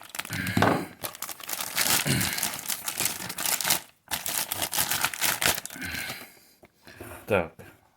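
Plastic bags crinkle and rustle up close in long bursts while something is wrapped, with brief pauses and a voice speaking at moments.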